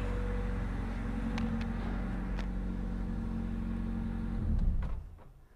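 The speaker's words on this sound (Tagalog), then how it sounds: "Papatayin natin yung makina." A car engine with starting trouble idles with a steady, close, low rumble, then shuts off near the end, leaving quiet.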